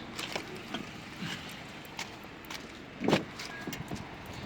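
A set of two car keys for a Honda Jazz/Fit 1.3 Hybrid jangles close by in a few brief metallic bursts, with one louder rattle near the end and no talk.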